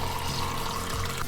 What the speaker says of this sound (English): This also lets you dial in and dispense a specific amount of water